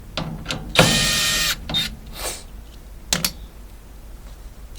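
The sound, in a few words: ratchet removing screws from Maytag dryer panel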